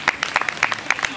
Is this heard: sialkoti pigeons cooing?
no